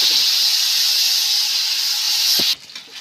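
Ground pirandai thokku paste hits hot oil with mustard seeds and gives off a loud, bright sizzling hiss. The hiss holds steady, then cuts off abruptly into quieter crackles and stirring.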